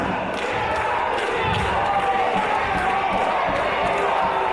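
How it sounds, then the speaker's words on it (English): A wrestling crowd at Hull City Hall roars continuously in a loud, dense wash of cheering and shouting, with a commentator's voice running underneath. "Listen to this crowd"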